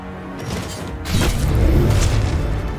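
Explosions go off in sequence in the video game Eldest Souls, a dense rumbling boom building after the first second and rolling on with heavy low thuds and crackling debris, loud and continuous.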